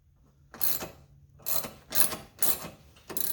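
A socket ratchet with a size 17 socket tightening a nut on an ATV track mounting bracket on a Can-Am Outlander: four close, crisp bursts of rapid clicking, each lasting about a quarter second, with short pauses between them.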